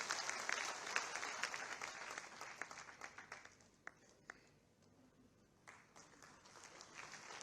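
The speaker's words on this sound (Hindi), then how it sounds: "आप सभी अपनी जोरदार तालियां मंच तक पहुंचाएं।" Applause from a crowd at a Krishna Janmashtami public event with Chief Minister Yogi Adityanath, a dense, fairly distant patter of clapping that swells and fades, with faint voices beneath.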